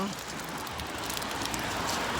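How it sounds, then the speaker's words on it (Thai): Steady rain against a window pane, a close, even hiss of drops without pause or voices. "ฝนตกที่หน้าต่าง"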